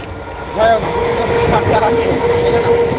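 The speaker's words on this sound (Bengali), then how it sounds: "দেখো পাশ থেকে ট্রেন যাচ্ছে" A train rumbles past close by at night with a continuous roar and rattling of wheels on track, and voices can be heard faintly underneath.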